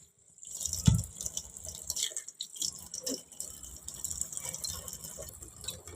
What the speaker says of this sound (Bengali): পিস করে এখন জল দিয়ে ধুয়ে নিব